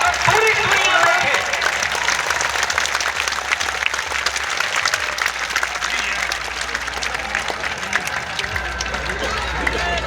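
Large crowd at a Hindu religious gathering applauds loudly and steadily, dense clapping filling the whole stretch with crowd noise and some speech mixed in underneath.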